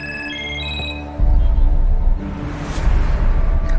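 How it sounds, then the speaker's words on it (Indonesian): A telephone rings in a ransacked kitchen, a short electronic tone sequence at the start that then gives way to louder, dense dramatic sound and noise. "Tiba-tiba saja ada telepon berdering."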